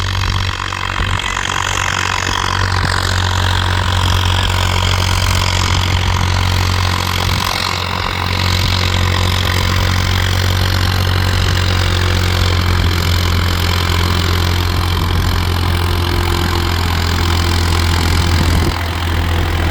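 Several Farmtrac tractors, including a 45 EPI and a 60 EPI, run their diesel engines together in a steady, loud, continuous drone with a deep low throb that holds for the whole stretch, with no talk.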